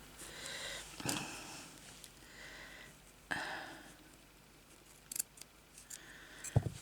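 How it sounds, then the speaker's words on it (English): Scissors snipping off a loose white thread while beading around a doll's face, a few sharp separate snips and clicks spread over several seconds, close and quiet with faint sniffing and no speech. "This white bit's really annoying me. Cut it off, Sonia."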